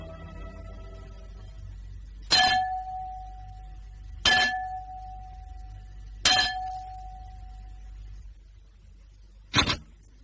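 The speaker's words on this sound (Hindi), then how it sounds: "तुमने ये घंटा बजाया है?" A bell struck four times at spaced intervals, each a sharp clang with a ringing tone that fades, loud and close in a quiet room.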